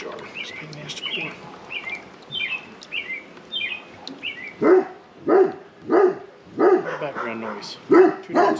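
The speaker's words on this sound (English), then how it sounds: "Background noise. 2 dogs barking, 3 dogs barking." Several dogs bark in a yard near a beehive, sharp rhythmic barks repeating about every half second in the latter half, following earlier chirpy calls, with a person's voice present.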